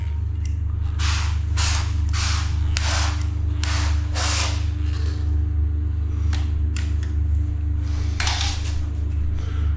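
Short hissing bursts of soapy water from a spray bottle repeat at an uneven pace over a steady low mechanical hum, close by, during silicone sealant work.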